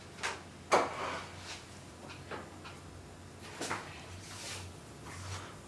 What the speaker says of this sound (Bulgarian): Горното чекмедже. Дай аз да го отворя.